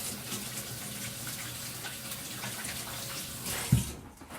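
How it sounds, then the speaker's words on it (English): Tap water runs steadily in a home kitchen sink while hands are washed between breading steps for oven-fried chicken, a soft continuous rush that ends with a brief louder splash before cutting off. "Let me wash my hands right quick."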